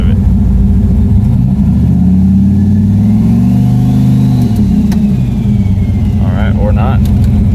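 The engine of an LS-swapped Chevy S10 drones loudly and close on a two-step launch limiter with the trans brake held. The pitch sweeps up and down and then settles.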